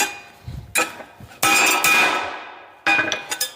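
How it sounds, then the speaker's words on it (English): Hammer blows on a half-inch thick steel welding table in a shop, several sharp metallic strikes with ringing decay, loud and close, spaced irregularly with no talking. "I can hammer on this table pretty much anywhere."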